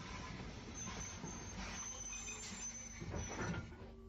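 An O2 class steam locomotive, No. 20 Shanklin, pulls a Ventnor train into an Isle of Wight station in the 1950s or 60s, giving a steady, moderately loud rumble of rolling stock with faint high squeals of wheels.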